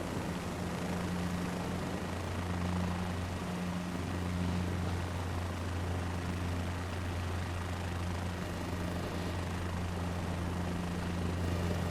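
A simulated helicopter hovers near a helipad in Microsoft Flight Simulator 2024, a steady, moderately quiet rotor and engine drone with a low, even hum and no change, and no voices.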